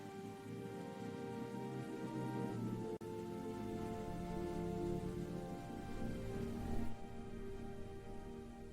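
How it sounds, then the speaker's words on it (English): Steady, dense patter of heavy rain falling continuously, close and even, with a low background rumble and no voices. "But Armin stayed right there in the pouring rain."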